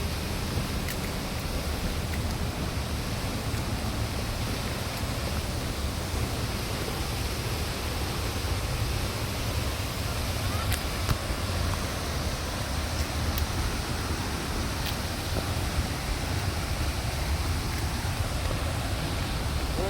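Waterfall in Negros, a steady, dense roar of falling water heard from a distance, constant and unbroken throughout.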